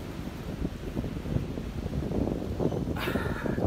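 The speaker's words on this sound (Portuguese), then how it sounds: "O vento bate, ó." Wind gusts across the beach dunes at Praia Grande, a steady low rushing roar that stays constant throughout, with a brighter hiss rising near the end.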